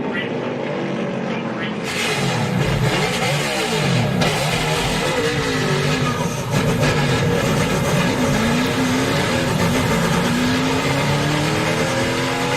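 NASCAR stock cars roaring around the track in a race, loud continuous engine drone with pitch sweeps as cars pass close, an announcer talking over it.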